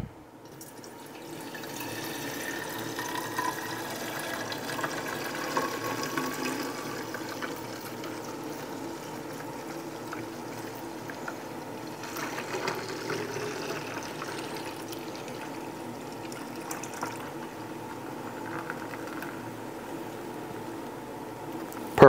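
Liposomal vitamin C liquid, made at home, pours from a machine into a glass pitcher with a steady trickling, splashing flow that runs for about twenty seconds, close and without talk.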